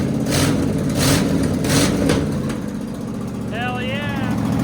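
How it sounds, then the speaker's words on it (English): A car engine runs steadily nearby with an exhaust leak, a loud continuous rumble with rhythmic puffing pulses and a brief whistling tone toward the end. "Has a little bit of an exhaust leak, but that'll be fixed tomorrow"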